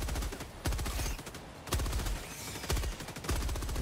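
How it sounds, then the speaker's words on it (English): Machine gun fire in the Helldivers 2 video game: loud, rapid bursts of gunfire in several long strings with short gaps between them, close and dominant throughout. "Need some easy enemies with this machine gun."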